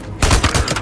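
An SMP9 submachine gun fires in Days Gone, a dense, close burst of rapid shots rattling in quick succession for under a second.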